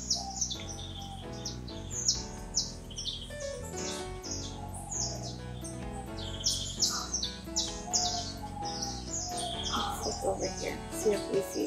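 Small finch chirps, a Gouldian finch among them, come in quick bursts over a busy, dense mix of other sounds, with a voice talking through it.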